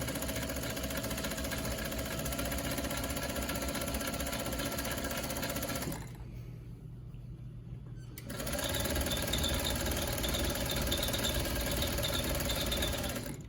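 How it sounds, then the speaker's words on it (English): A sewing machine stitches down the middle of a fabric mask, running in a fast, steady mechanical chatter that stops for about two seconds before resuming, close and moderately loud. "let's backstitch here again to seal it, but just sewing right down the middle."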